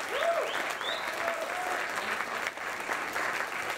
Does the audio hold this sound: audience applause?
yes